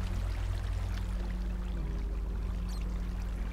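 Flowing water in a video game, a steady rushing pour with a low rumble, constant and fairly loud throughout, no talking heard.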